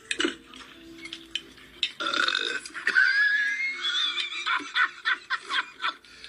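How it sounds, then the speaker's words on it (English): A boy belches loudly at the dinner table, a long croaking burp followed by snickers and laughter from people nearby. "he belches out loud at the table"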